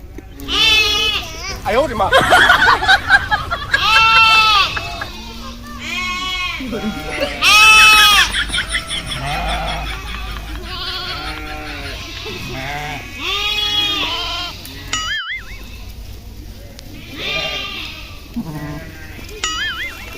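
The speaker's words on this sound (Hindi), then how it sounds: "कहाँ ले जाता भेड़ी कहाँ ले जाता है?" Sheep in a village bleat repeatedly, loud and close, mixed with people talking and shouting over them throughout.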